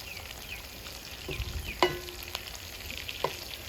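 Ginger garlic paste sizzles in hot oil during fish pickle cooking in a village kitchen, a steady soft frying hiss with a few stirring clinks and scrapes near the pan.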